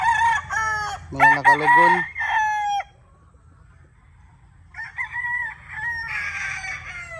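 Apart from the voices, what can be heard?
young roosters crowing on a farm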